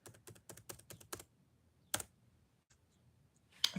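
Rapid bursts of keystrokes clatter on a computer keyboard for about a second, then give way to near silence broken by a few isolated, sharper clicks close by.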